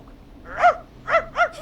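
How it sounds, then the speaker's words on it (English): Junkyard dog barking, three sharp, close barks, one then a short pause and two quick ones in a row, over a low background hum. "You just let loose the junkyard dog."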